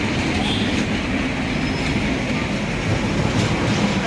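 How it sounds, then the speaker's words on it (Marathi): A small children's ride-on train in a garden rumbles along steadily, its wheels clattering in a continuous even drone with no voices. "आमचं गार्डन एक अशी ट्रेन आहे मुलांना बसण्यासाठी"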